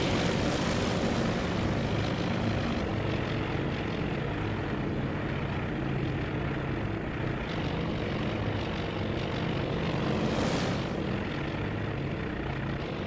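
WWII carrier aircraft in the Task Force Admiral game drone steadily with a dense, continuous propeller engine roar that stays loud throughout and briefly swells once.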